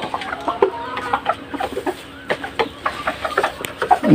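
Silver pheasants kept on a farm, one male with three females, give repeated close clucking calls in irregular bursts over a quiet background.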